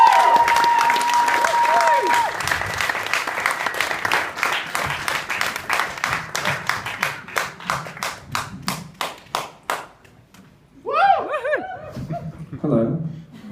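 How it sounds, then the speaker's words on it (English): Audience applause for comedian Dylan Watts at a comedy show, a loud burst of clapping that thins into scattered claps, followed by laughter and chuckling from the crowd. "please give the biggest applause you can for Dylan Watts!"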